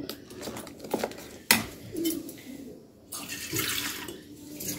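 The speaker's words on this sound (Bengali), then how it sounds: "আমি একটু জল মিশিয়ে পাতলা করে নেব, একেবারে নর্মাল জল" Water poured and mixed into masala dosa batter in a home kitchen, giving soft splashing and swishing with a sharp clatter early on, faint and close, with no talk.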